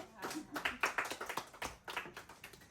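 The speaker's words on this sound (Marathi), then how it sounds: "टाळ्या वाजा छकुलीसाठी" Several people clap for a little girl, a quick run of close, uneven hand claps with a voice talking over them.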